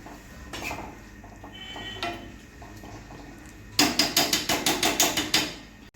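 A utensil scrapes and clinks against a pan while prawns fry, a few sparse knocks and then a quick rhythmic run of metallic taps, close and fairly faint.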